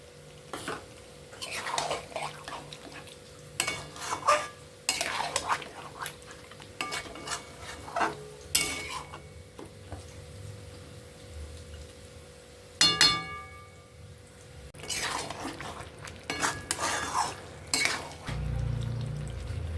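A spoon scrapes and clinks against a pan as chicken chaap is stirred and fried in a milk-based gravy, with soft sizzling in between. The irregular metallic knocks are close-up, and nobody talks.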